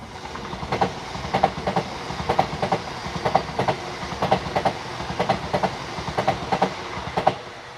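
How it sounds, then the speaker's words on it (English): A new Avanti Class 805 Evero train passes close by, its wheels beating out a steady, rhythmic clickety-clack over rail joints above a rushing rumble, with no voices. "There goes the new Avanti Class 805 Evero."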